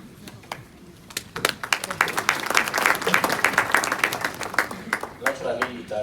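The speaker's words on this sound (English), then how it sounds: "Naturally, it does give confidence when you clap your hands." Audience applause at a press event with a finance minister on the return of the Zimbabwe dollar, a dense crowd clapping that swells and stays loud throughout, with scattered individual claps standing out near the end.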